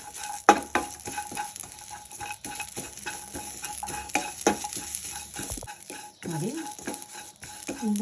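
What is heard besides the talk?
fresh drumstick leaves being stir-fried in a pan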